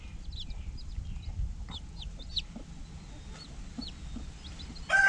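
A hen and her chicks in a coop, with high, thin chick peeps scattered throughout over soft low clucking and faint rustling, plus a sharper burst of sound at the very end.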